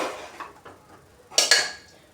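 A spoon stirs mutton curry in a metal pot, giving a few soft scrapes and then two sharper, louder clanks near the end, close and without talk.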